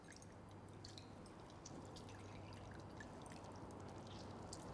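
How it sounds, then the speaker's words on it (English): Water dripping and trickling from cooked spinach squeezed by hand for a spinach and ricotta sauce, faint scattered drips over a soft steady hiss, no talking. "lift the spinach and squeeze out as much water as possible"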